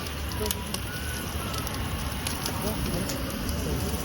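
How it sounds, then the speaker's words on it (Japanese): A campfire in a fire pit at a campground crackles and hisses steadily while food grills over it, with small pops throughout and people talking over the fire. "こちらでもフライパンでも焼いて、これは焚き火で焼きます"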